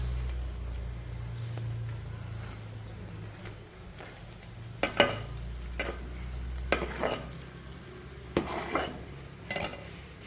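Drumstick leaves frying in ghee in a pan, with a steady low sizzle broken by several sharp stirring scrapes and clinks of a utensil against the pan.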